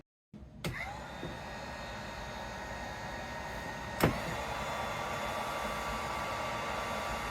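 Heat gun warming fishing jig heads before powder-paint dipping, switching on with a click into a steady, fairly quiet rushing blower hiss, a brief knock partway, then continuous even airflow noise.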